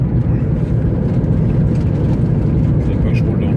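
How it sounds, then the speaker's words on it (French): A 2012 Toyota Prius 3 hybrid running on ethanol accelerates gently up a slight incline, giving a low steady road and engine rumble with broadband tyre and wind noise throughout. "La voiture accélère tranquillement"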